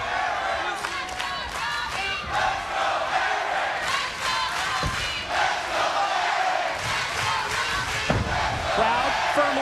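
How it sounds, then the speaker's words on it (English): A large wrestling arena crowd roars and cheers in support of the champion during a professional wrestling event, dense continuous shouting with scattered sharp thuds and slams cutting through. "Crowd firmly showing their support for the champ."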